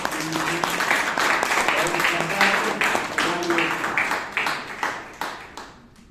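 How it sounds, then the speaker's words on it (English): Audience applause at a Toastmasters meeting in Bangalore, a room full of clapping hands building into a dense patter and then gradually thinning out, with a few voices mixed in. "Everyone, please give a huge round of applause for General Evaluator."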